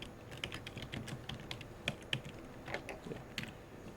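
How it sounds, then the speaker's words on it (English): Rapid keystrokes on a computer keyboard, several quick clicks in a row at close range, with no voices over them. "you're just going to hit enter now"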